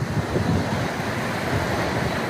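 Water washing against a shore, recorded outdoors with a phone's rear camera, forms a steady broadband wash of surf mixed with wind noise across the microphone, continuous and fairly loud, with no voices.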